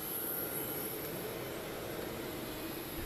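A fixed-wing air ambulance jet, 29.1 m long and carrying 18 passengers, gives off a steady, unbroken engine roar with a high whine on top, constant in loudness throughout and with no voices.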